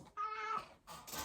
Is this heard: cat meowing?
yes